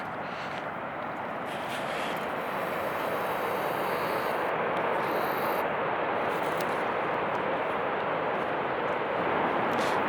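American Falls at Niagara Falls in winter roaring as a steady, dense broadband rumble that stays constant and fairly loud throughout.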